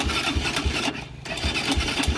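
A small engine run on homemade olive-oil fuel sputters and coughs in uneven bursts, catching briefly with a short lull partway through but never settling into a steady idle.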